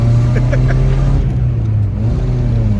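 Suzuki Samurai with a swapped 1.6L 16V engine revving hard toward 5,000 RPM, a loud, steady, close engine drone heard from inside the vehicle, easing slightly near the end.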